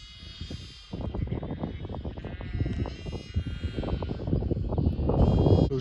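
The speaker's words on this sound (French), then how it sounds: "j'ai 7 brebis qui viennent d'agneler dans la nuit" A flock of ewes that lambed overnight in an open-air pasture bleat repeatedly with their newborn lambs, overlapping calls near and far that grow louder and denser toward the end.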